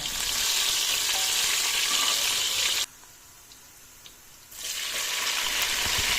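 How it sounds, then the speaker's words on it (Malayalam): Crushed shallots sizzle in hot oil with popped mustard and fenugreek seeds for a fish head curry. A steady, loud frying hiss drops to near silence for about two seconds midway, then resumes. No one speaks. "കടുകും ഉലുവയും പൊട്ടിക്കഴിഞ്ഞു കഴിഞ്ഞാൽ അതിലേക്ക് 5-6 ചുവന്നുള്ളി ചതച്ചിടുക."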